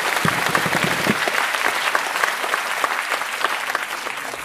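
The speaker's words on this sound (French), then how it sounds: "la ferveur des applaudissements que vous leur réservez" Audience applause fills a student musical theatre performance, dense steady clapping from a large crowd throughout, loud and continuous with no talk over it.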